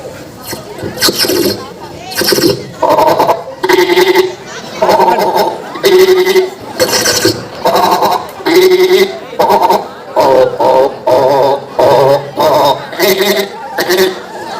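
A voice repeatedly imitates frogs croaking, a series of short throaty calls in rapid succession, loud and close, with brief gaps between them.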